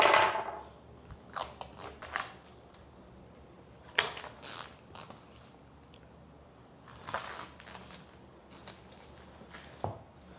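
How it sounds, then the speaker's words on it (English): Seal being torn open on a OnePlus 7 phone box in Mirror Grey, giving several short crinkly tearing and crunching bursts separated by pauses, close and fairly quiet, with no speech. "So I will unbox this now. I'll break the seal."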